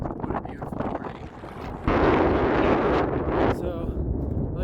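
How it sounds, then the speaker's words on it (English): Wind gusts buffet the microphone in a loud rushing roar at about 13,950 feet on Mount Yale, Colorado, with a brief calmer stretch of talking before and after. "It's a little windy up here"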